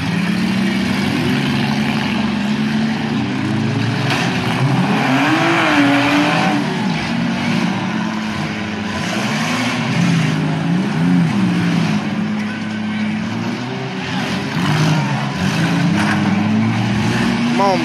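Several Buick cars at a V6 demolition derby at a county fair rev their engines hard and spin their tires, a loud continuous roar with rising and falling pitch throughout, with a spectator speaking over it.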